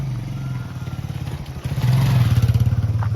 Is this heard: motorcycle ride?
yes